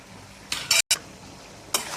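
A spoon stirs soy sauce and white vinegar into dissolved cornflour for restaurant-style chicken chilli, giving a few short, close scraping and clinking bursts with quiet gaps between them and no talking.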